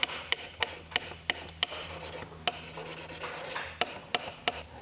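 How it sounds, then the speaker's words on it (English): Scrap timber rubbed with abrasive slurry along a steel Okatsune shear blade, making a rhythmic rasping scrape in repeated back-and-forth strokes with sharp clicks, close and fairly quiet. "find a scrap piece of timber, there you go, rub it in"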